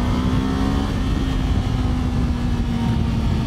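A Kawasaki Ninja 7 Hybrid motorcycle accelerating under boost after an upshift: a loud, continuous engine drone with a steady whining tone that holds throughout under wind rush, heard from the rider's position.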